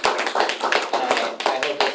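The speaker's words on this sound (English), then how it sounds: "so a round of applause for both of you all." A small classroom audience claps for two debaters, a short run of distinct, fairly close hand claps in an uneven rhythm from only a few people.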